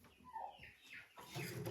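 Laying hens cluck softly in a chicken coop, a faint, irregular run of low murmuring calls with no talk.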